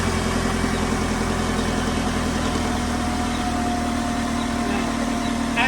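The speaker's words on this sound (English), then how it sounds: "Now it's time to start up the engine." A car engine runs at a steady idle right after an oil change, a constant close mechanical hum with a faint whine holding throughout.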